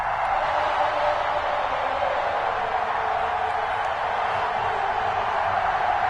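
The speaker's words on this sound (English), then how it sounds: "This crowd is ready as their guys get set to match up with the New York" Stadium crowd in an EA Sports NFL video game, a broad steady roar of cheering that holds at an even level throughout.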